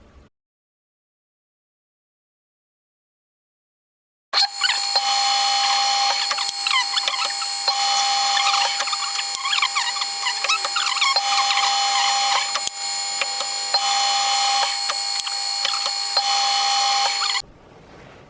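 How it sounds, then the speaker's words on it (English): A small countersink tool countersinks holes in a machined part ahead of tapping, giving a steady, loud mechanical whir with squealing overtones that runs unbroken for about thirteen seconds after a silent start and then cuts off. "we replace this with a little countersink tool, and we'll do exactly the same thing, and we'll countersink all the holes ready for tapping"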